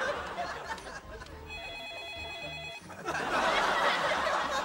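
An electronic telephone ringtone trills in a short repeating pattern for about a second and a half, followed by a burst of louder background noise.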